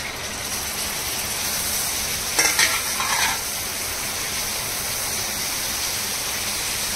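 Chopped tomatoes hit frying keema in a pan for keema aloo, setting off a continuous close sizzle and hiss, with a brief burst of stirring clatter near the middle.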